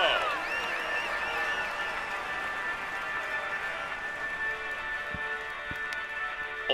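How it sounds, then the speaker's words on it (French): Crowd at a Tour de France stage finish applauding the yellow jersey on the podium, a distant wash of clapping and cheering under a faint sustained tonal sound, with a few sharp clicks near the end. "Allez, on l'applaudit encore."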